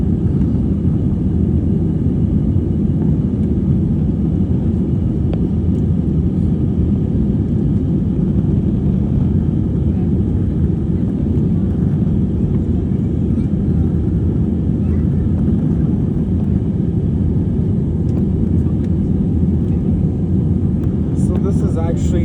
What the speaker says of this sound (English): this is actually the older JetBlue plane